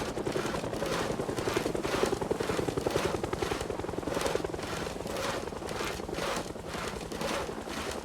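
A helicopter in the zombie survival game Project Zomboid thuds overhead with a rapid, steady rotor chop that stays loud and continuous throughout, with no talk over it.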